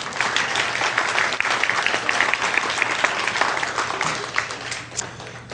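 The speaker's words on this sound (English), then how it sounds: "give yourself a round of applause" An audience at a hypnosis seminar applauds, a dense, steady round of clapping from a room full of people that tapers slightly toward the end.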